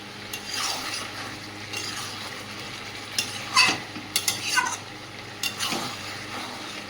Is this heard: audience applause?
no